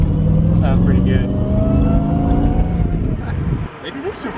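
The V8 swapped into a Porsche 944 Turbo roars loudly up close, its rising engine note running under a voice before it drops away near the end.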